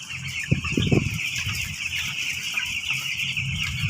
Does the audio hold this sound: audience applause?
no